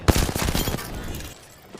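In the video game Apex Legends, a rapid burst of gunfire cracks out sharp and close, quick repeated shots tailing off into a fading echo within about a second.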